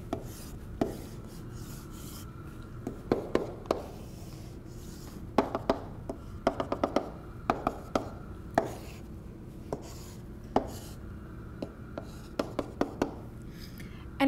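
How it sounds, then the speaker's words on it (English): Drawing a face-centred cubic structure diagram by hand, with close, irregular taps and short scratchy strokes of a pen or marker over a quiet room tone. "let's start off by drawing the FCC structure"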